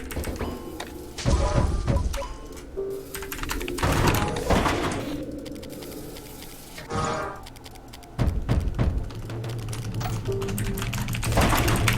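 Rapid bursts of typing on a terminal keyboard in a horror video game, with clustered key clacks broken by short pauses and heavier sliding-door thumps over a low ambient hum.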